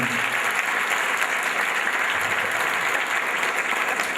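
A church congregation claps steadily during a Spanish-language sermon, a dense, even wash of applause from a crowd lasting several seconds with no break.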